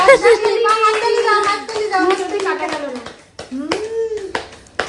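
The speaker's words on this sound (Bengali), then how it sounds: "হাততালি" Hands clap at a child's birthday celebration, a brisk patter of claps mixed under loud sung and spoken voices close by.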